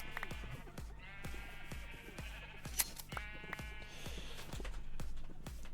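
Sheep bleating in the Minecraft video game, a string of wavering, nasal bleats from several animals, moderately close, over a steady run of soft low thumps.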